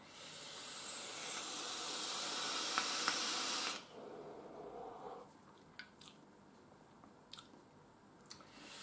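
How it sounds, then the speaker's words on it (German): An inhale on an e-cigarette with mango-flavoured e-liquid, a steady airy hiss for several seconds that cuts off, followed by soft wet mouth clicks and smacking, close and quiet. "Dampftest."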